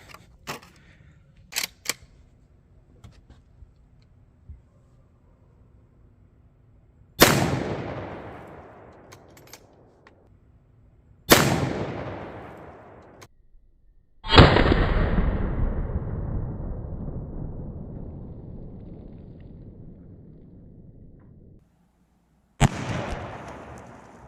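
Several loud, close .270 Winchester rifle shots fired outdoors into water, each a sharp crack followed by a long decaying rumble, spaced several seconds apart with faint clicks and handling noise between them.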